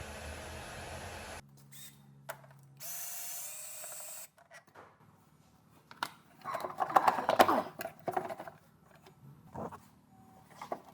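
Ratchet loosening a 10mm bolt on the thermostat housing of a 2013 Dodge Journey 2.4L, heard as short clicking bursts and metallic taps close by, with pauses and light handling noise between them.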